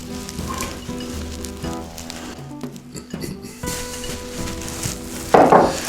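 Finely diced onions fry in a little oil with a continuous close sizzle and crackle, a few soft utensil knocks, and faint tonal background music, ending in a louder burst of spitting.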